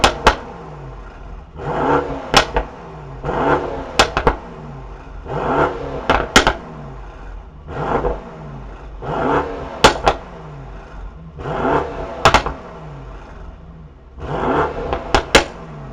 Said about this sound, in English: let's hear that beautiful AMG performance exhaust system